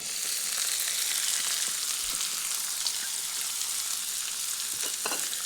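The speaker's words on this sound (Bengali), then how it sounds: "আদা রসুনটি কিছুক্ষণ ভাজা হয়ে গেলে দিচ্ছি পেঁয়াজ কুচি।" Chopped onion fries with ginger and garlic in white oil for a paneer momo filling, giving a continuous bright sizzle with occasional small crackles and stirring sounds, with no talk.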